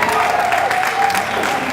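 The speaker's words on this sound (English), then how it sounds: "Let's give these kids a nice hand." Crowd at a junior beef breeding livestock show clapping for the kids, a brief burst of steady applause with a voice speaking over it.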